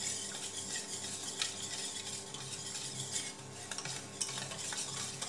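A spoon stirring salt into curd buttermilk in a bowl, with quick repeated swishes and occasional light clinks against the dish, close and fairly quiet.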